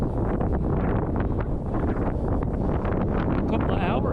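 Strong headwind buffets the microphone while cycling across open Kansas country at about 7 mph, a loud, continuous roaring rush with no breaks.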